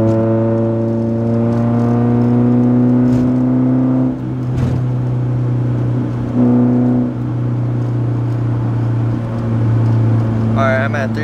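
A Nissan 240SX fitted with blast pipe exhaust revs steadily near 3000 RPM, a loud, droning harmonic engine tone that holds, dips briefly and picks back up, with someone talking over it.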